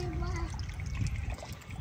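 Water trickles and splashes onto plants being irrigated in a field, close and uneven, while people talk over it.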